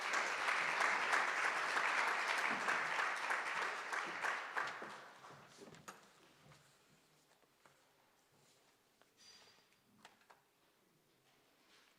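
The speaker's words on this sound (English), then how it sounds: "Can you give her the round of applause?" At a youth e-voting event, an audience applauds a regional electoral official being introduced: steady clapping for about five seconds that fades into a quiet room with a few isolated taps and shuffles.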